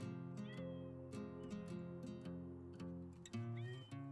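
A cat meows repeatedly in a garden orchard, with several short rising and wavering calls heard close over a steady tonal background hum.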